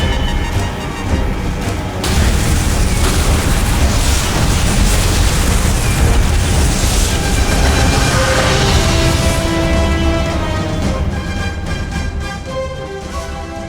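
Demolition charges explode in Call of Duty: World at War, a loud sustained roaring blast with rumbling debris that continues for many seconds before slowly easing off.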